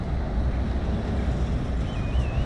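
A steady, droning roar of distant autobahn traffic in Italy, continuous and even throughout, with no voices.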